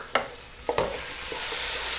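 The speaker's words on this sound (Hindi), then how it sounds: "आलू को हमने मसाले के साथ अच्छी तरह से भून लेना है।" Finely chopped potatoes frying with spices in a pan, a steady sizzle broken by two or three quick scraping stirs near the start, close and with no talking.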